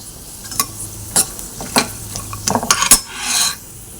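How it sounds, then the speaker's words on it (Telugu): Peanuts and cumin seeds frying in oil in a pan while okra chutney is prepared, with a loud sizzle broken by repeated spatula scrapes and metallic clinks against the pan, close up and without speech. "పల్లీలు వేయించుకున్నాక వేగి జీలకర్ర కూడా ఇందులోనే వేసుకుందామండి"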